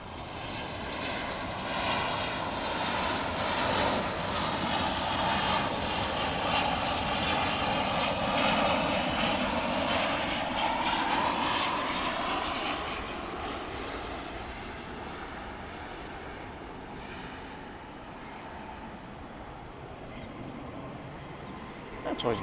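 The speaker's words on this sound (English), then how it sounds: "this 737 coming in from Austin is about to touch down" Steady roar of a Boeing 737 from Austin on final approach to DFW Airport, loud and sustained with a sweeping engine whine that fades slightly as it nears touchdown.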